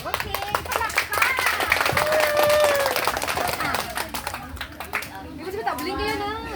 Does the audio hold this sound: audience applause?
yes